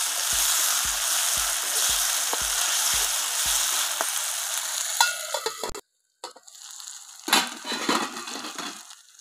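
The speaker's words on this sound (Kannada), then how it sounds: "ಟೊಮೊಟೊ ಹಾಕ್ತಾ ಇದ್ದೀನಿ." Tomatoes hitting hot oil in a pan of frying mutton sukka give a steady close sizzle with a run of regular low thumps early on, then scraping and stirring clatter with a brief pause.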